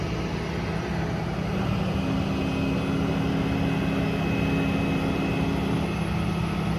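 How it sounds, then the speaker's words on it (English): Hydraulic winch on the HC12 Autocrane of a 2020 Kenworth T270 service truck, running as a loud, steady, close mechanical drone with a low hum throughout, no talking. "Winch is nice and quick."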